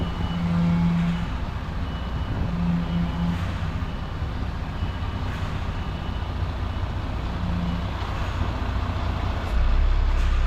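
A forklift reversing nearby, its warning beeper sounding in a few spaced bursts over a loud, continuous engine and road rumble, with no voices.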